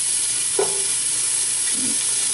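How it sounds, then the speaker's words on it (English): Bacon sautéing in a pan sizzles with a loud, steady, close hiss, broken by a couple of brief scrapes as it is stirred. "We are just going to saute up this bacon until it is"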